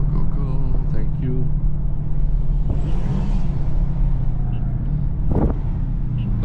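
A BMW XM Label Red, a 738-horsepower all-wheel-drive car, hums steadily with low engine and road noise under wind buffeting, while someone talks over it near the microphone.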